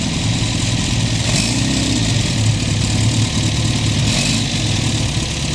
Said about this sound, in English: As this little Volvo rolls up.